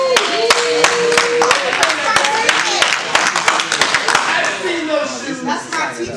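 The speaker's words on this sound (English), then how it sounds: "Clap it up." Audience at a poetry slam clapping and applauding for poet Rudy Francisco in San Diego, a sustained burst of sharp, dense claps from a crowd, loud and steady throughout with some cheering voices mixed in.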